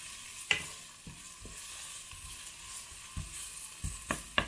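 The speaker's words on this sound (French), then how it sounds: "mes oignons commencent à être saisis. Donc je vais laisser un petit peu pour qu'ils se ramollissent." Onions frying and sizzling in a pan in a home kitchen, a soft steady hiss with occasional clatters and scrapes of stirring, close and fairly quiet, no voices.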